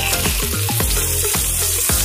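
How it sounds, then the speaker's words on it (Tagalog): Tilapia fries in an old pan with loud, dense sizzling and crackling right up close, continuous with pops and spatters and no talk. "ipiprito ko muna yung ating tilapia"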